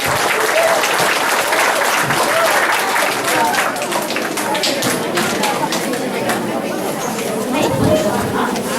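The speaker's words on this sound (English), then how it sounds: "Let's give Morgan a round of applause." An audience at an indoor event gives a finalist a round of applause, steady energetic clapping mixed with chatter and cheering voices throughout.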